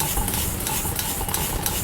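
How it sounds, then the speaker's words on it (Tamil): Samba wheat grains dry roasting in a pan, giving a steady close scraping and rattling as they are stirred, with a faint sizzle throughout and no talk. "சம்பா கோதுமை இப்போ நம்ம இதில் வறுத்துக்கலாம்"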